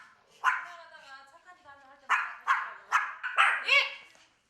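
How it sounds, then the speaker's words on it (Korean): Small dogs barking loudly and relentlessly at home, a string of sharp, high yapping barks in quick bursts, close and piercing, with no talk over them. "저 작은 몸집에서 저토록 우렁찬 소리는 어떻게 나오는 건지 쉴 새 없이 짖어대는 통에 아, 귀가 다 먹먹하다."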